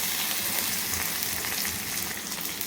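Ginger-garlic paste sizzles steadily in hot oil while being sautéed for a prawn masala, a dense, continuous frying hiss with faint stirring scrapes, close and alone with no talking.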